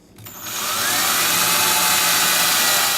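A power drill bores pilot holes through a jig for a wooden kitchen drawer, whining up to a steady loud high-pitched drone that holds for a few seconds, close and without speech.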